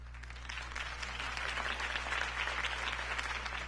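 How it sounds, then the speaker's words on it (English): A crowd applauds steadily after a campaign speech in the Batman Telltale video game, a dense wash of clapping held at even loudness, fairly faint and without speech. "If only Mr. Wayne, my campaign's largest backer, could have heard that applause"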